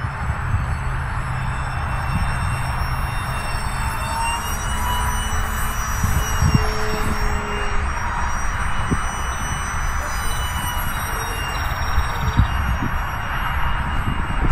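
A Great Planes Micro F-86 Sabre RC jet flies overhead with a steady, loud whining drone and high tonal whistle, continuous throughout with slight pitch shifts as it passes.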